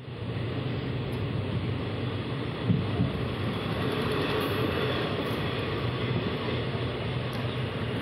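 A Tirunelveli–Thoothukudi passenger train rolls along the rails with a steady rumble and faint rhythmic clatter, continuous and fairly close, with no voices.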